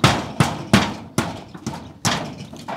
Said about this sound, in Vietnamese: Đóng đinh vô ha.